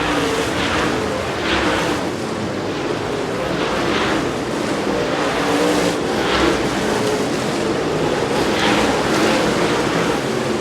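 Dirt late model race cars running hot laps at a Lucas Oil Late Model Dirt Series event, a continuous loud engine roar with repeated swells as cars pass, heard alone without commentary.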